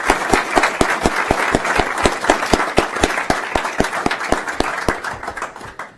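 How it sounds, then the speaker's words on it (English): Audience applause at a school board meeting, a lively crowd clapping for several seconds with quick, rhythmic hand claps ringing out over the general patter before it thins toward the end. "let's give them a round of applause for that achievement."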